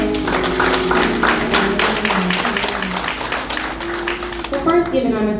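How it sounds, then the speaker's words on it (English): A funeral congregation claps hands in praise at a celebration-of-life service. The clapping is a dense, sustained patter mixed with voices and a sustained tone, with speech running over much of it. "can we just give God one more hand clap of praise?"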